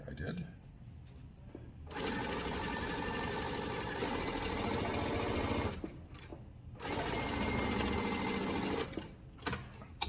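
A sewing machine stitching quilt blocks runs in two long, steady whirring bursts with pauses between them, close by, and a voice speaks around the stitching.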